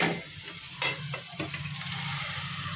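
Ground masala paste being sautéed for Chettinad chicken gravy, a continuous soft sizzle with a few scraping stirs of a spoon in the pan, with no talking.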